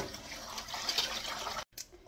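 Cold water poured over soaked dried chwinamul greens, a steady splashing gush for about a second and a half that cuts off abruptly, then a faint trickle.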